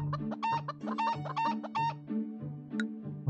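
A chicken in a video game clucks in quick repeated bursts, a clear close-up series of short clucks with brief pauses between them.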